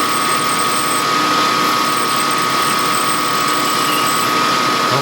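A dull drill bit bores into a carburetor main body, giving a loud, continuous, high-pitched grinding whine with a steady tone that holds for the whole stretch.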